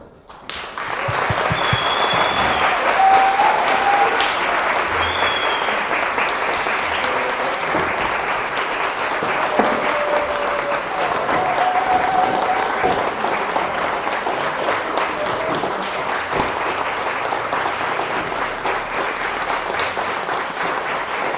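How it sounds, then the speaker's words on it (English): A crowd at a national assembly in Wrocław applauds for about twenty seconds, a sustained, even wall of clapping that starts abruptly and holds steady. "Huge applause to Ula"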